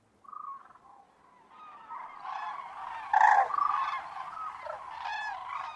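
A group of wintering cranes calls from a misty lagoon in Spain, sending loud bugling, trumpeting cries that overlap and build in a continuous chorus, clear and fairly close.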